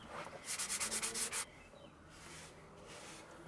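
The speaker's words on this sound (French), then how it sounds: "Au bout de plusieurs couches, on peut donc la poncer pour égaliser tout ça" A worn leather seat bolster from an Aston Martin DB7 being sanded down after several coats of liquid leather, with about ten quick, rhythmic rasping strokes close up, then a quieter pause.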